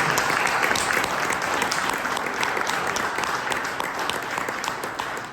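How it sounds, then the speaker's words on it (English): Dense, steady applause from an audience honoring state legislators on a panel, a broad wash of many clapping hands that holds strong for several seconds before easing slightly at the end. "I want to start just by giving them a huge round of applause"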